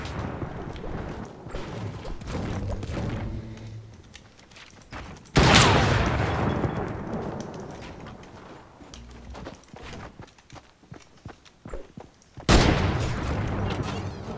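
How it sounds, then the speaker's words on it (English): A sentry turret fires in Fortnite, producing rapid bursts of gunfire with heavy booming blasts standing out, set among busy game noise and intermittent voices. "I'm getting bodied by a sentry turret"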